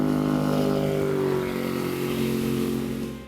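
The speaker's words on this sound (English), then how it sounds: "Our test boat was also equipped with the quick and quiet through-hull exhaust" Chaparral 257 SSX bow rider boat engine running with its quiet through-hull exhaust, a steady, loud, continuous droning hum alone with no talk, easing off slightly at the very end.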